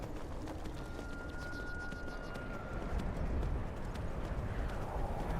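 A horse galloping in Skyrim: steady, rapid hoofbeats pounding along continuously at close range over a low rumbling ambience, with no talking.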